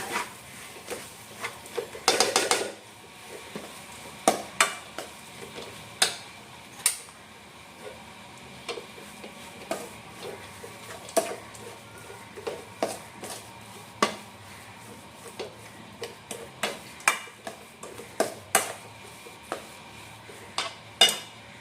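Spices, including ground chilli, are mixed by hand in a bowl: a spoon clicks and taps against the bowl at irregular intervals over a quiet, faint background, with no talk.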